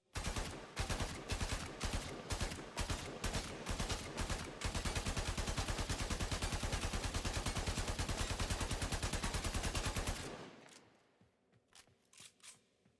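A Braton Prime assault rifle fires in the Warframe video game: a few quick bursts, then a long loud full-auto stream that cuts off, followed by a few faint clicks.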